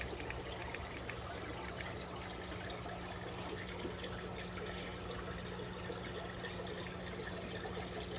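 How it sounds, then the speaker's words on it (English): Water from a fish tank spills over the trim indoors, a steady soft trickle and splash running continuously at low volume beneath an even hum, with no talking. "Had a little water spill out over the trim there."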